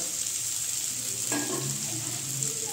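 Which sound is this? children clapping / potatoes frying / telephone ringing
potatoes frying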